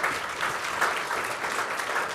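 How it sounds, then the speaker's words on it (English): An audience claps steadily for a conference panel on cultural diplomacy and business, a dense, even patter of many hands at moderate loudness, with no voices over it. "A round of applause"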